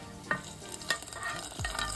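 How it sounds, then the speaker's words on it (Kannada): A tempering (tadka) of spices in hot oil tipped into cooked dal, with a few sharp clinks and crackling, sizzling bursts while stirring, fairly quiet and close, with no voices. "ಸೊ ಇವಾಗ ನಮ್ಮ ಒಗ್ಗರಣೆ ಏನಿದೆ ರೆಡಿಯಾಗಿದೆ. ಇದನ್ನು ನಾವು ನಮ್ಮ ದಾಲ್ಗೆ ಸೇರಿಸ್ಕೊಳ್ಳೋಣ."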